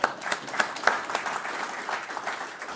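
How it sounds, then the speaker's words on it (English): Steady applause from a crowd, a dense patter of clapping that holds for a few seconds at moderate volume. "So round of applause for them, please."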